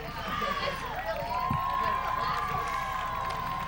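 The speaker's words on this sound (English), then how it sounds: "As you hear the Eagles cheerleaders getting the crowd back into it" A high school football crowd at a Hilton Head Christian Eagles home game cheers and chants along with the Eagles cheerleaders, a continuous loud roar under a play-by-play announcer's voice.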